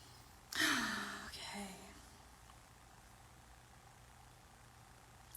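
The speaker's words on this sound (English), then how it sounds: "Take some deep breaths with me." One long, deep, breathy inhale and exhale sounds close and fairly loud early on, followed by a shorter, softer breath and then quiet room hiss during a guided relaxation session.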